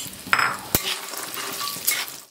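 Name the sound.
walnuts being roasted and stirred in ghee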